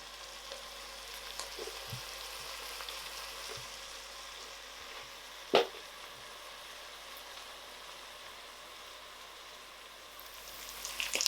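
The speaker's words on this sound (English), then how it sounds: "So these onions have been cooking for a good 10 minutes, so they're nice and soft." Onions softening in a pan for bacon jam give a low, steady frying crackle, quiet and close. One louder clatter lands about halfway through, and the sizzle swells a little near the end.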